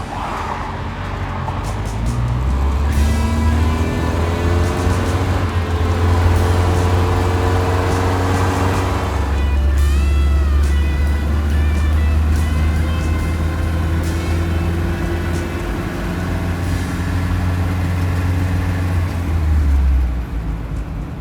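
A Ford Pinto's engine drones steadily at about 2,500 rpm with a low, constant hum, rising briefly in pitch as it accelerates, heard from inside the car without talking.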